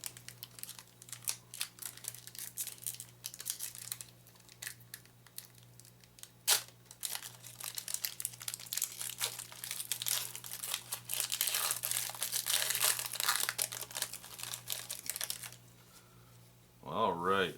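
A foil wrapper on a 1992 Star Pics Saturday Night Live trading card pack crinkles and tears as it is opened. The crackling is close and continuous and grows busier toward the end, followed by a brief bit of speech.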